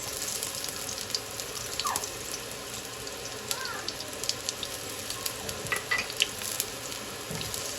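Onion frying in a pan as a Filipino dish is cooked, a steady close sizzle throughout, with faint scraping and clinks over it.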